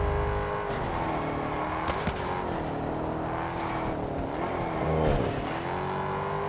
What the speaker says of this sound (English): this is about as fast as the car can perform